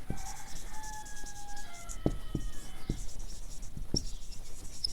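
Marker or chalk writing on a board during a differential equations lecture, giving short scratchy strokes and a few sharp taps against steady room noise, with no talking.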